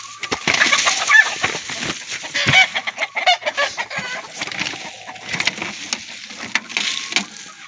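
Chickens cluck in short, irregular bursts close by, several birds overlapping with soft throaty calls and a few sharper squawks.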